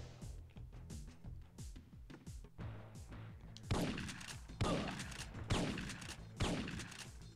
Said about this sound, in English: Wasn't the best grenade throw.